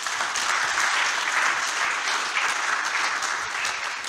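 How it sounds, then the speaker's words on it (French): A church congregation breaks into steady, dense applause during a sermon, a continuous wash of many hands clapping at close range for the whole stretch with no talking over it. "Est-ce que quelqu'un peut acclamer le roi des rois?"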